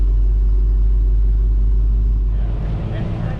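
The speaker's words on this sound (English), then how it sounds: "Let this car come by." A car rolls past on a road during a hot rod tour: a steady low engine rumble that shifts as the vehicle goes by, with people talking over it.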